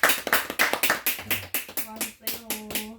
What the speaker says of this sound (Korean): 박수 치고 마치도록